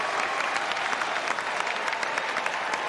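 A tennis crowd at the US Open in a first-round match between Frances Tiafoe and Yoshihito Nishioka, applauding steadily with dense, continuous clapping that holds loud for the whole stretch.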